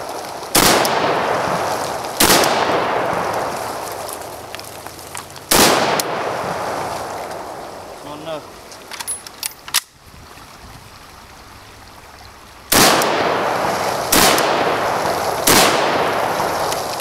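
Several loud, sharp rifle shots from a newly built .308 rifle ring out one at a time outdoors, spaced a second or more apart, with a brief lull before a final quick trio of reports.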